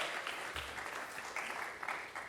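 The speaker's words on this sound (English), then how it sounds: "So a big round of applause for our emirate" Summit audience at a real estate and construction event breaking into applause, a dense, fairly distant wash of clapping held steady across the moment.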